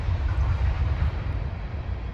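A train passing near a garden, a steady, loud low rumble with a broadband rushing hiss that holds evenly throughout, no voices over it.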